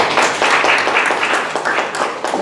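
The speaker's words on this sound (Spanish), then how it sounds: "Fuertes palmas para poder recibirlo." Applause from the audience at a university puppetry and education panel discussion, a dense, steady wash of hand clapping lasting a couple of seconds, loud and close, with a faint murmur of voices underneath.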